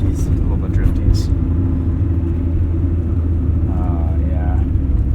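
Steady engine and road rumble fills the cabin of a 1996 Mazda MX-5 Miata on a drive, heard up close and continuous at an even level, with faint voices briefly over it.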